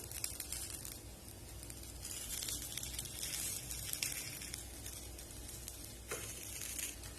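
Paniyaram sizzle and fry steadily in a pan after being turned, a continuous close crackling hiss with small pops and no talking.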